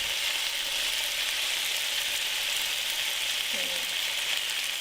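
Steady, loud sizzling of marinated steak frying in a hot pan, continuous crackle and hiss throughout.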